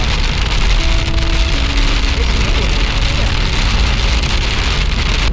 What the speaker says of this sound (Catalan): Això no és ploure, això és pedra.